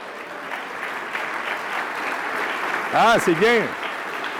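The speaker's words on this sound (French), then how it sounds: "qu'on puisse vous donner une bonne main d'applaudissements" Applause from a seated-then-standing audience at an evening induction ceremony, continuous clapping under a speaker's short remark near the end.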